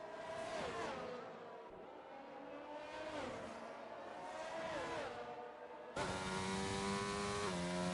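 Formula 1 race cars roar past in a continuous high-pitched engine whine with rising and falling revs, a fresh, louder car sweeping in near the end for a dense, close pass.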